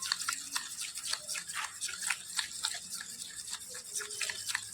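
Ghee and powdered sugar being stirred together in a bowl for biscuit dough, a soft rhythmic scraping and swishing repeated steadily at close range, fairly quiet, with no talk.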